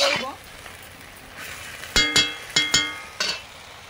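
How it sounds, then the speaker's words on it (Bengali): Water spinach (kalmi shak) frying in a home kitchen pan: a faint, steady sizzle under several sharp clinks of a utensil stirring against the metal, close and sparse. "কলমি শাক ভাজা হচ্ছে"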